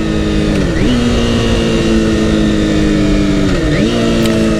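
Kawasaki ZXR250 four-cylinder motorcycle engine revving hard and high with a carbureted tune, the steady screaming pitch dipping briefly twice as the throttle blips, loud and close throughout.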